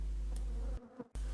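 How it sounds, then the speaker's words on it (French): Black honey bees buzzing close by at an open hive, a steady insect drone that cuts out briefly near the end before resuming. "C'est de l'abeille noire, hein, on peut le voir de très près."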